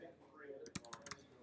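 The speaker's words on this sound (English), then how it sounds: "The keys on the keyboard go click, click, click and click" A few quick clicks from computer keyboard keys, sharp and fairly close, tapped in a short irregular burst against faint room noise.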